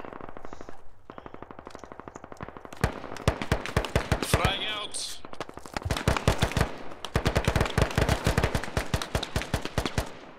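Automatic rifle fire in the video game Squad crackles in rapid bursts and rattling strings of shots, some close and loud, others farther off, with brief shouted voices mixed in among the battle.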